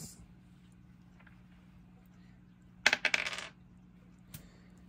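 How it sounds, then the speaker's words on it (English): Dice for a Mouse Trap board game tumble and clatter across a hard surface in a quick burst of rattling clicks, close and sharp against a quiet room hum. "I'm going to roll the dice."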